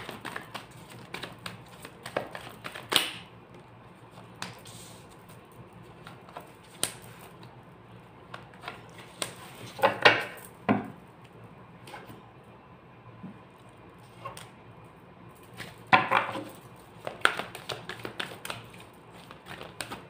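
Tarot cards being shuffled by hand in a quiet room, with soft irregular riffles and slaps, a few sharper bursts of card noise standing out among faint rustling.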